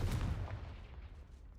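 A Confringo fire spell cast in Hogwarts Legacy: one heavy boom that hits at once and then fades into a dull, decaying rumble, with no other sounds.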